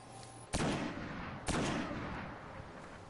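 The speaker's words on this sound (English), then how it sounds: "this guy's just using a sniper rifle at close range, doesn't even matter" Two loud sniper rifle shots ring out about a second apart in a Destiny Crucible match, each a sharp crack followed by a long, booming echo.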